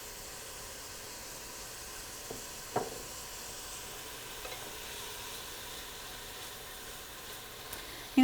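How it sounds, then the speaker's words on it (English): Onion and garlic sizzle in a frying pan at a library cooking demonstration, giving a steady, soft hiss throughout with a few faint clicks and light knocks. "I'm going to go ahead and add the garlic in."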